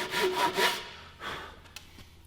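A Japanese handsaw cuts wood on the pull stroke, making a few rhythmic rasping strokes up close, then a fainter scrape and a small click as it slows.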